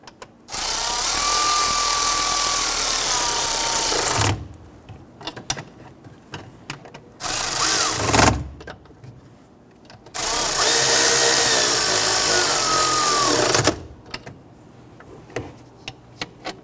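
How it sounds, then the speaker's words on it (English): Power tool running bolts into a Kia Sorento intake manifold: three loud whirring bursts of a few seconds each, separated by quiet pauses with faint clicks. "you can go ahead and switch over to your power tool if you have one"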